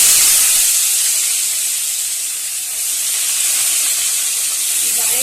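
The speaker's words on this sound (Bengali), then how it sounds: "এইবারে আমি পেঁয়াজগুলো দিয়ে দিলাম।" Onions hiss and sizzle steadily in hot oil with cinnamon and cardamom, a loud, bright, continuous frying sound with no voices.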